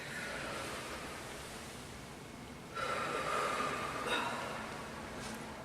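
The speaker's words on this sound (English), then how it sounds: "Big deep breaths." A group breathes in deeply and out together during a wellness seminar exercise, a soft continuous airy rush of breath in a room that swells louder partway through, with no talking.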